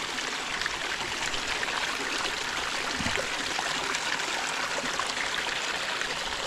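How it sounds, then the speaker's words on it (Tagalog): A stream flows steadily in a continuous, even rush and babble of water, moderately loud and unbroken throughout, with no voices. "Tubig dyan dumadalo."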